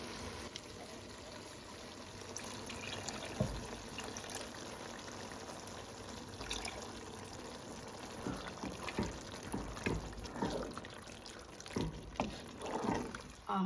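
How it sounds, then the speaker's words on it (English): Water poured into a can of crushed tomatoes while making lasagne, a steady close trickle and splash lasting many seconds with small clinks and shifts toward the end, no talking. "I add a little bit of water into the can and get all the tomatoes in the can also."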